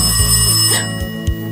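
A telephone bell rings loudly in a children's puppet news show, a bright sustained ring that stops abruptly partway through, followed by a couple of short thumps.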